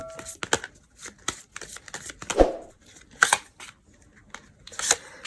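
Oracle cards at a tarot reading being handled and shuffled, with a run of crisp flicks, snaps and rustles in an uneven rhythm, close and clear, no talking.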